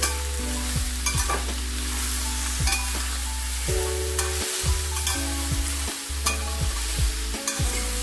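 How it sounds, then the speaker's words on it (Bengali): Shol fish pieces stirred with salt and turmeric in a hot oiled pan, a steady loud sizzle with repeated scraping strokes of the spatula, close up and without talk. "নুন হলুদটা ভালো করে মিশিয়ে আমি একটু ঢাকা দিয়ে দিয়ে রান্না করব।"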